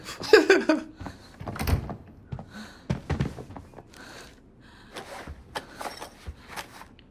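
A door in the shooter game Arena Breakout bangs open or shut with a short, solid thunk near the start, followed by quieter scattered in-game knocks and shuffles.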